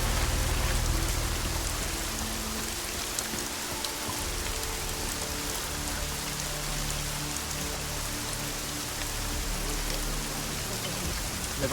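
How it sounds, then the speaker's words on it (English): Steady rain in the video game Deus Ex: Mankind Divided pours down in a dense, even hiss of drops hitting surfaces, with no voices. "At least get us out of the rain."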